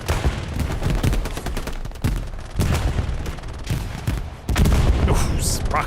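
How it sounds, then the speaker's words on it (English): Dense, loud gunfire and booming explosions come from a bombing run during a World War II console shooter match at Foy, Battle of the Bulge. Blasts hit in rapid irregular bursts, and a voice talks over them. "Bombing run called into West Bend. Defensive bombing run from OCL."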